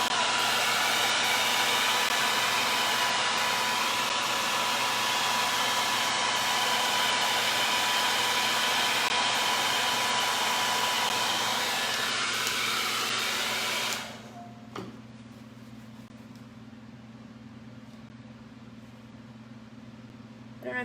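A hair dryer blows steadily at close range with a loud, broad whoosh, then cuts off abruptly near the end, leaving a quieter room hum.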